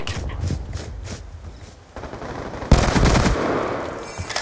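Gunfire in a Black Ops 2 gun game match: a few scattered shots, then a loud sustained burst of automatic fire from close range in the second half, with no talking.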